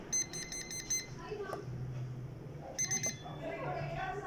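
A cellphone alert for a new Pointer device sounds in repeated short bursts of electronic beeping, with a faint vibrating buzz behind. A person speaks over it between the bursts.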